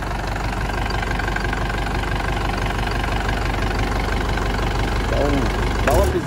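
A 1996 Chevrolet D20 Conquest pickup with a modified exhaust idles steadily nearby, a deep, even rumbling pulse throughout, while someone talks over it near the end.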